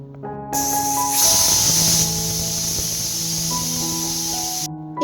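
Pressure cooker on the stove with vegetables inside lets out a sustained, piercing steam whistle with a broad hiss, holding steady for several seconds before cutting off.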